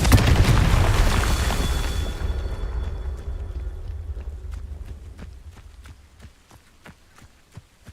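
A Confringo fire spell from Hogwarts Legacy bursts in a loud, broad explosion that rumbles and slowly fades over several seconds, followed by a series of faint, evenly spaced ticks or footsteps.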